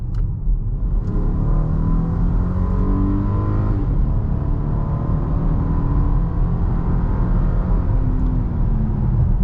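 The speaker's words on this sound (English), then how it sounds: "Wow, does this engine sound so great" A 2022 VW Atlas Cross Sport SUV engine roars steadily under full-throttle acceleration, a loud continuous low rumble with rising harmonic tones throughout, no talking.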